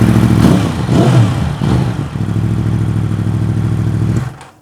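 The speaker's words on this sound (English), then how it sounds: "Can't get enough of the sound of these R1s." A Yamaha R1 60th Anniversary sportbike engine revs hard and close, climbing through a couple of sharp throttle blips before settling into a steady high drone and cutting off abruptly, with no talk over it.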